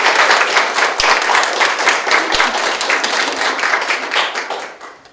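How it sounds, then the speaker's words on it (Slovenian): An audience applauds at a local community event, a loud, dense burst of clapping that holds steady for several seconds, then thins and fades toward the end. "Dajmo ploskati."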